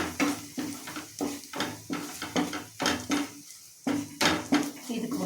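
A spoon stirring and scraping ridge gourd curry with chicken masala in a metal pan, a rhythmic series of clanks and scrapes roughly twice a second, close and fairly loud with brief pauses.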